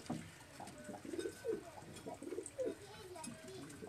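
Rooftop flying pigeons kept by a hobbyist give soft, repeated coos at a moderate distance, with faint background talk and ambient noise.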